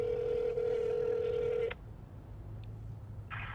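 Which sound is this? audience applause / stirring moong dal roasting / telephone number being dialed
telephone number being dialed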